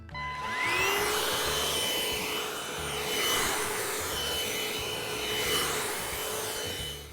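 A Severin HV7160 cordless upright vacuum cleaner runs steadily with a whining motor tone, rising and falling in swells as it is pushed under a sofa and furniture, with no voices.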